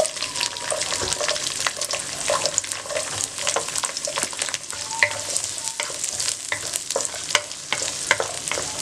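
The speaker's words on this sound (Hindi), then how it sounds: "अब बाकी बचे हुए ऑयल में आप प्याज डाल दें।" Chopped onions fry in leftover oil in a home kitchen pan, giving a steady close sizzle with frequent clicks and scrapes of stirring throughout, and no voices.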